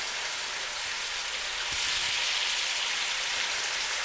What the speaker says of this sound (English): So now you can probably hear it sizzling in the background.